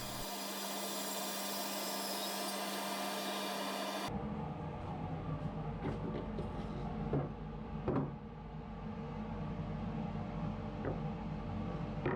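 A thickness planer runs thin wooden boards through for a final thickness pass, a steady loud machine whine and hum that shifts partway through as the board feeds, with brief knocks and clatters over the drone.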